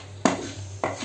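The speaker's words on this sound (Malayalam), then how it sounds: "നല്ലവണ്ണം ഇളക്കി കൊടുക്കാം." A spoon scrapes twice against a pan while homemade tomato sauce with salt and sugar is stirred, two sharp close knocks over a low steady hum.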